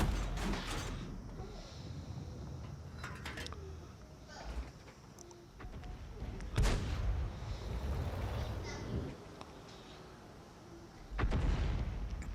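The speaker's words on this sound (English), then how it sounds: "Close artillery." Artillery shells burst close by in World of Tanks, a few heavy booms rising out of a low, rumbling game soundscape, with one blast standing out late in the stretch.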